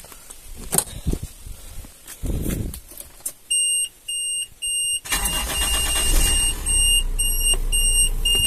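A car engine is started to circulate freshly added coolant. A few short electronic beeps sound first, then the engine cranks and settles into a loud, steady idle rumble.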